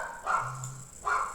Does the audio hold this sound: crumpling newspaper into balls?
no